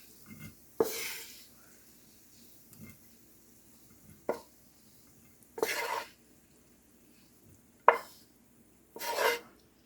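Cooked crumbled sausage spooned into a sprayed 8x8 inch baking dish, several separate scraping clatters of utensil against dish spaced a second or two apart, close by, with quiet pauses and no talking.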